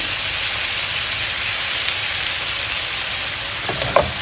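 Burger ingredients dropped into a hot frying pan hiss in a loud, steady sizzle, with a couple of small utensil clatters near the end and no talking.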